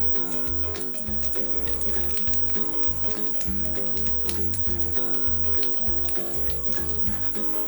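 Brioche slices fry in foaming butter in a pan, a steady close crackling sizzle under a faint repeating background tone, with no voices.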